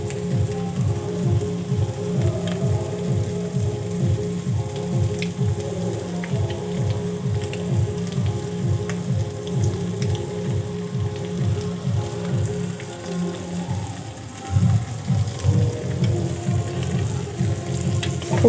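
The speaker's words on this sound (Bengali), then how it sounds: "এইভাবে গ্রেটারের সাহায্যে" A boiled egg is grated by hand on a metal grater for a Bengali-style cabbage roll, giving a steady run of close, rhythmic rasping strokes with a brief pause before the scraping picks up again.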